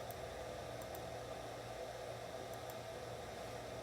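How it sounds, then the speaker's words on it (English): A shop vacuum switched on through a relay together with a CNC spindle under Mach 3 control, running as a steady, loud broadband whoosh with a low motor hum throughout. "So now, when I click to start my spindle, my vacuum turns on."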